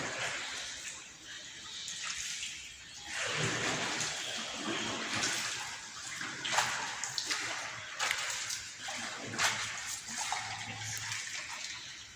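Water splashes and churns in irregular bursts while fishing, fairly close, with voices talking faintly underneath.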